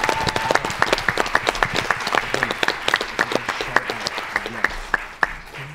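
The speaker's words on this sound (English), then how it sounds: "Let's give a big round of applause for our contestants" An audience at a Texas quiz show championship final claps loudly and steadily, with crisp individual claps standing out over a dense, sustained round of applause.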